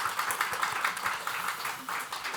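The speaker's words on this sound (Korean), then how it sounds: "우리 박수로 격려해 주시고 감사합니다." A church congregation claps for the choir volunteers, a brief burst of many hands clapping quickly and fairly evenly inside the sanctuary.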